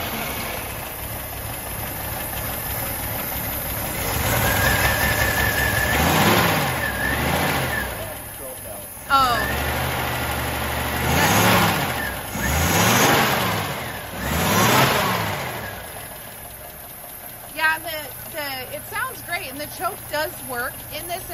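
A 1965 Rambler American 440 convertible with a three-speed revs its engine several times, each swell rising and falling from a steady idle, close and fairly loud, with someone talking briefly near the end.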